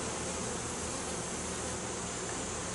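Honeybees buzzing steadily at an open hive, a dense continuous drone of many insects close by, with no talking.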